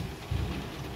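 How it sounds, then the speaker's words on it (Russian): Heavy rain that started suddenly, mixed with hail, pours down steadily as a dense, close wash of noise with a brief louder surge, no voices. "Резко начался дождь у нас. Такой сильный."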